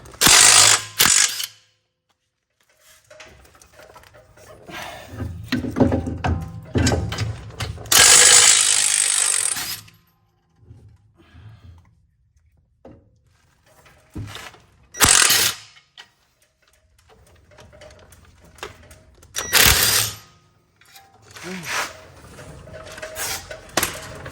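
A ratchet with an 18 mm swivel impact socket loosens brake bolts on a 2018 Ford Edge, bursts of close rapid clicking separated by quiet pauses.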